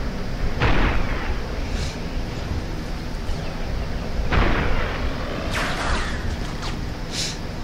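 Sniper gunfire in the video game Resistance: Fall of Man: a few sharp, booming shots spaced several seconds apart over a steady noisy battlefield background, loud and close.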